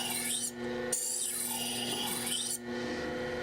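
A custom knife bevel being faceted by grinding, a steady rasping rub that runs in several passes broken by short pauses, close and fairly loud with no talking.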